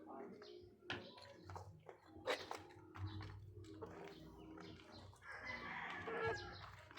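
A rooster crows loudly close by in what may be a fighting-cock yard, its call rising over a low background rumble, with people talking nearby between other short bird sounds.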